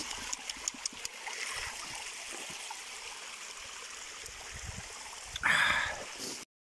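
Flowing stream water near the Loch Ness waterfalls, a steady broadband rush running throughout, with a louder close splashing burst near the end.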